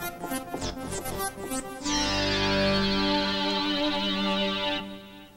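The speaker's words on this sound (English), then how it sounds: "switch 2 increases the amount of echo in the chorus delay effect." A Kurzweil K2600XS synthesizer plays quick repeated notes, then a sustained chord rings out with a chorus delay echo effect that lingers and trails off before cutting away, with no one speaking.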